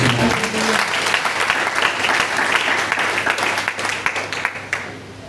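A church congregation bursts into loud, dense applause during a French-language service, the clapping swelling steadily and then thinning toward the end, with a faint voice beneath.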